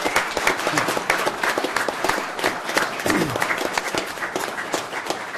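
A council meeting audience applauds winning students with dense, steady clapping throughout, moderately loud and close, with a light undertone of crowd noise.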